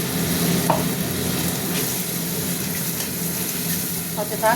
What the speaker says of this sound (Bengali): টমেটোটা একটু ভাজবো, তারপরে মশলা দেবো